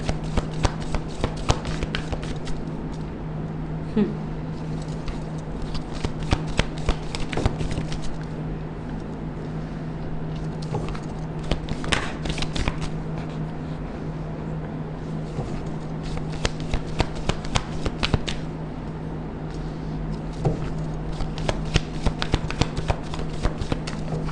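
A deck of tarot cards being shuffled, with repeated quick riffling and flicking bursts over a faint steady hum, close and alone.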